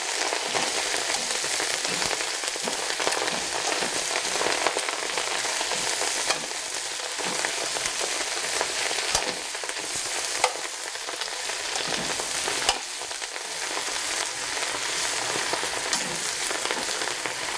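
Greens stirred in a hot pan after salt and hot pepper go in, giving a steady, close, broadband sizzle and frying hiss throughout with occasional soft clicks of a utensil; no talking.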